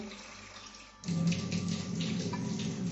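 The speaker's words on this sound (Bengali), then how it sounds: "এইবার পরিমাণ মতো জল দিয়ে দেবো।" Water pours steadily into a pot of ripe-mango khichuri, starting after about a second of quiet and continuing as a close, even rushing splash to the end.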